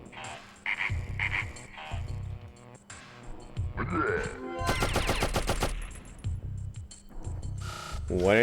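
Rapid bursts of gunfire ring out in Oddworld: Abe's Oddysee on PS1, dense automatic shots clustered mid-way, mixed with croaking creature noises, electronic game sounds and chirps.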